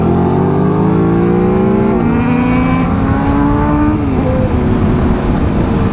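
Motorbike engine while riding, a loud, close, continuous drone with harmonic tones that shift in pitch through gear changes and throttle, steady throughout with no voices.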